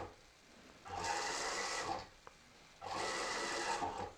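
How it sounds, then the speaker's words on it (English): A stepper motor run by a stepper driver at full current buzzes and whirs in two separate bursts of about a second each, close and fairly quiet, with a brief click in the gap between them. "So this stepper driver should be giving us a full 2 amps to the motor. And as you saw, it just skipped."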